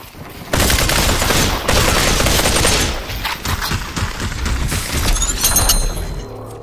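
Rapid bursts of gunfire in the VR shooter Population: One, loud close automatic volleys with sharp cracks and a brief shattering, pausing and resuming in irregular clusters over several seconds.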